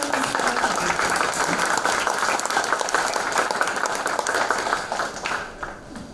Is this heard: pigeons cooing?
no